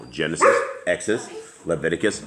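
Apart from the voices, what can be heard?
dogs barking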